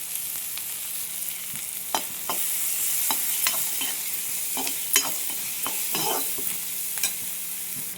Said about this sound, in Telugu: ఆనియన్స్ కరివేపాకు ఎండుమిర్చి వెల్లుల్లిపాయ రేపలు వేసుకొని ఒకసారి కలుపుకుందాం